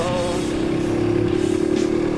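A 1969 Honda S90 small motorcycle engine pulls hard toward top speed, a loud, close, buzzing single-cylinder drone that holds a steady, slightly rising pitch with no voices.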